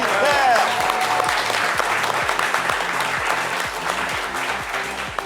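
Studio audience at a French midday television show applauding, loud and sustained, with a rhythmic low thumping beat and a brief whistle or cheer near the start.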